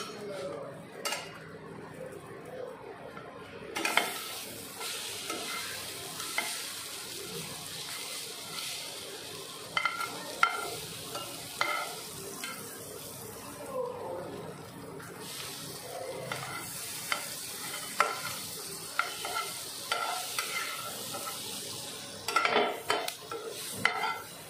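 A cheese sandwich cooks in melted butter in a pan, giving a soft, continuous sizzle broken by frequent scrapes and clinks of a utensil against the pan.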